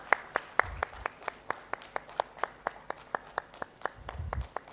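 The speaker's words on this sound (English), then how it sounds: "A big round of applause, ladies and gentlemen." Slow, evenly spaced claps ring out at an industrial conference inauguration ceremony, sounding like a single person or small group clapping at a steady rhythm, fairly faint and distant.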